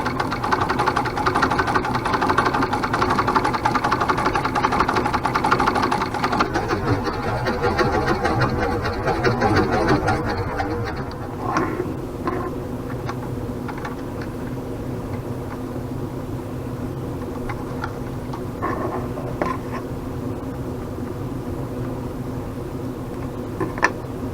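A Singer treadle sewing machine runs and stitches with a steady, busy mechanical whir close by, which thins out halfway through to a lighter running hum with a few faint clicks.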